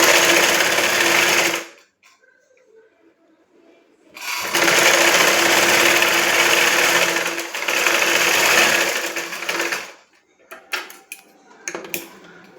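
A domestic sewing machine stitches a folded hook strip on a blouse, running in loud continuous bursts with a pause between them, then a few short clicks and knocks as the fabric is handled.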